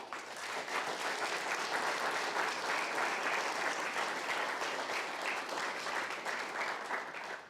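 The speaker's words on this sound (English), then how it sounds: "I want y'all to give them a round of applause" Sustained audience applause at a fire academy graduation ceremony, a dense, steady wash of many hands clapping that holds evenly for several seconds before tapering at the end, with no talk over it.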